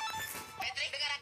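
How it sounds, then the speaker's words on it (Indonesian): A telephone ringtone sounds briefly in a home where a baby is being played with, its tones close and fairly loud, with voices talking over it. "Ada yang telepon."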